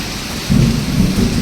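During a rainstorm, a short, deep thunder rumble bursts in and rolls on under a steady wash of falling rain, loud and near.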